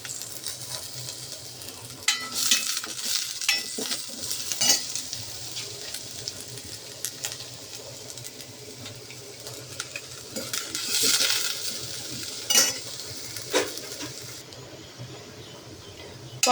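Onion and chili sautéed in a little oil, a moderate sizzle under intermittent stirring, with metal clinks and scrapes of a spoon on the pan at uneven intervals.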